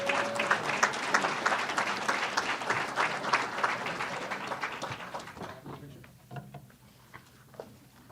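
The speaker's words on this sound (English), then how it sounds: "Let's give him a big round of applause." Applause from an audience at a police promotion ceremony in Louisville, a dense burst of clapping that slowly thins and fades out toward the end, with a few scattered claps lingering.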